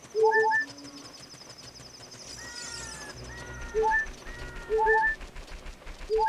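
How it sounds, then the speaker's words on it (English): Soft, repeated dove-like cooing calls from birds in the video game Ocarina of Time, in short bursts over a low electronic background hum, with a brief higher trill midway. "The goddamn birds."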